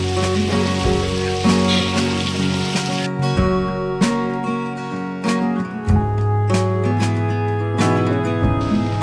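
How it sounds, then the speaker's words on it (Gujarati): Fresh rain keeps falling in a steady, dense patter, with sharper drops landing now and then, while tonal sounds run underneath. "કાલનો એવો નવો વરસાદ ચાલુ છે."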